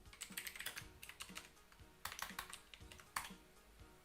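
Someone types a short command on a computer keyboard during a Linux install. Quick, quiet clusters of keystrokes come in uneven bursts with small pauses between them.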